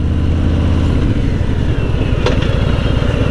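A 2020 Harley-Davidson Fat Bob motorcycle rumbles along with a loud, steady engine throb close to the microphone, continuous with a slight pulsing texture and no speech.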